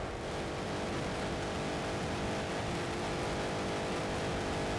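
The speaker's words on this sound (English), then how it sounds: "the car is so fucking loud though" A car engine in the racing game FUEL, driven across desert salt flats, makes a constant droning roar at steady loudness throughout, with no talking.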